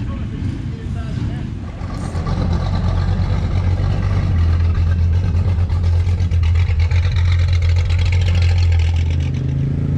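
An old Ducati motorcycle engine runs at a rough, steady idle, low and rumbling, and grows fuller partway through. Voices and outdoor crowd noise from a gathering are mixed in.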